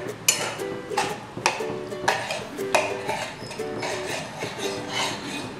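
Mutton for a ghee roast is stirred and mixed in a cooking pan, each regular stroke landing as a clear metallic clank and scrape, repeating about every half second, loud and close with no talking.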